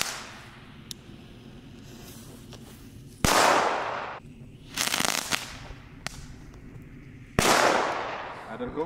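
Knetter firecrackers explode outdoors in several sharp, loud bangs, each followed by a crackling burst that fades, with quieter pops and light background noise between them.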